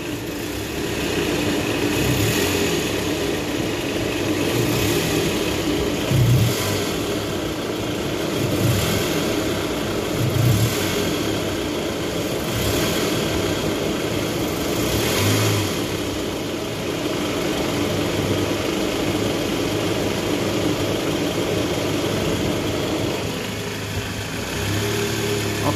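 Car engine revving after a balancer replacement, a steady close drone with a few gentle rises in pitch and no knocking, running continuously for the whole stretch with no voices.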